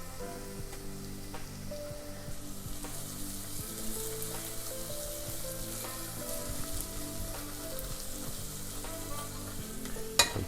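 Spices and tomato puree frying in a pan for a chicken breast sauce, giving a steady, close sizzle with stirring scrapes throughout and no voices.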